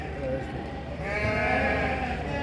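Sheep and lambs bleat repeatedly at a small-livestock market in Çorum, overlapping calls rising in a busy pen with low background murmur and distant voices.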